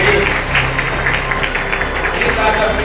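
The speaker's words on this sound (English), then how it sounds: "So please big round of applause to these ladies." An audience at a chess and arts cultural event gives the organisers a steady round of applause, dense and close clapping that fills the whole moment.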